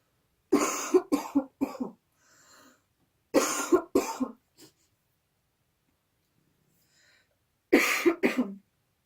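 Three bursts of harsh, close coughing, each a quick cluster of hacks, separated by quiet pauses with faint breathing.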